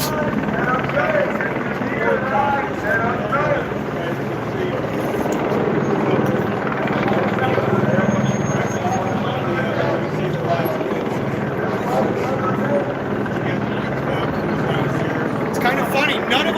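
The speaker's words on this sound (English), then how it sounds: "Got a copter up" A police helicopter flies overhead in Echo Park, Los Angeles, its rotor a steady, fairly loud drone running beneath continuous street noise and voices.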